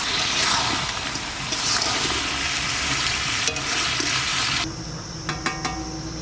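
Pieces of country chicken cook down in a pan, a loud wet sizzle with scraping stirs that drops away abruptly near the end, leaving a few faint clinks.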